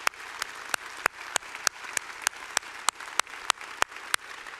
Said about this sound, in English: So how about giving a round of applause for everybody?